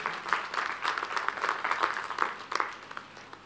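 Church congregation clapping loudly together during a Telugu Sunday worship service, a dense, steady patter of many hands lasting throughout and thinning slightly toward the end.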